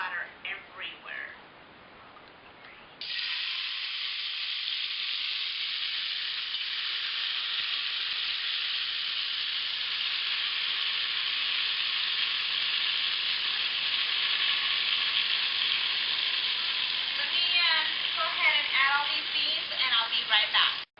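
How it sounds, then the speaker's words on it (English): Refried beans hit hot oil and fry with a loud, continuous spattering hiss that holds steady for many seconds, after a brief quiet voice at the start. "just go ahead and start adding all the beans into the oil. So, and be careful because oil will splatter everywhere"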